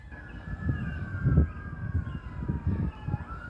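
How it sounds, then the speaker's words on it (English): A wailing emergency siren sweeps slowly downward in pitch, somewhat distant, over a rumbling low background of traffic. "Oh, hear the sirens."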